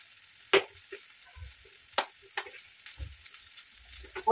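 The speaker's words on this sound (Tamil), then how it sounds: "எண்ணெயை ஊற்றிக்கிறேன்." Coconut oil poured into a hot pan for frying, giving a faint steady sizzle with a few sharp clicks and crackles scattered throughout, heard alone without talk.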